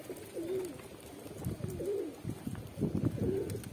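Pigeons coo repeatedly at a moderate distance, soft throaty calls recurring every second or so over a light outdoor background.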